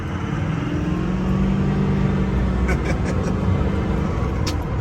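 2007 LBZ Duramax diesel pickup with an aggressive tune, driving with a steady loud low drone of engine and road noise from inside the cab and a few faint clicks, no talking.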